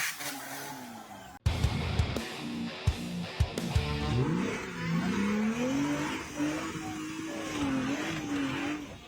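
A 4x4 off-road rig powers on the throttle through a nasty obstacle, its engine droning steadily with rising and falling pitch after a few sharp thumps and knocks early on. The engine is fairly loud and close, with no talking.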